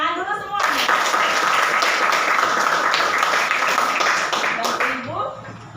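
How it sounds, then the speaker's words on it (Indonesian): Schoolchildren in a classroom clap together for their teacher, a loud, steady burst of many small hands lasting several seconds with brief voices at the start and end. "Tepuk tangan dulu semua."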